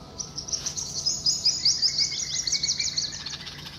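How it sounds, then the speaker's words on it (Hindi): Small birds chirp and tweet in a summer garden beside a chikoo tree, a quick run of high bright calls at moderate distance over faint insect buzz and soft background noise. "ये चिड़ियों की आवाज़, मुझे बहुत ही सूदिंग लगती है।"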